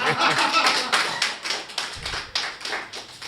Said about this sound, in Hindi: आपकी तालियां चाहता हूँ।